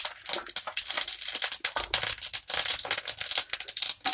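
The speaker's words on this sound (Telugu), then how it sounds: "పోపు దినుసులు చిటపటాలుతున్నాయి" Tempering spices crackle and pop in hot oil in a pan for semiya upma, a dense run of sharp close snaps and spatters throughout, with no talking.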